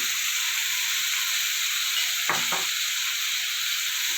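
Bottle gourd and pea lentil dal cooks in a pan for Bengali lau dal, giving a steady close sizzling hiss with one brief scraping stir partway through and no voices.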